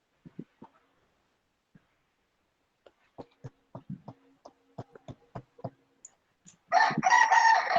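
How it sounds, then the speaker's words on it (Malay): A rooster crows loudly and close at the end, a long harsh call following a sparse run of quiet clicks and taps in an otherwise silent room. "duk dengar ayam kokok ya"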